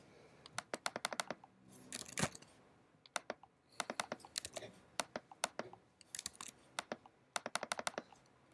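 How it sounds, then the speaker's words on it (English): Someone bangs hard on a computer keyboard in rapid bursts of sharp clattering keystrokes separated by short pauses. The strikes are close and crisp, with no voices. "Let's bang on the keyboard."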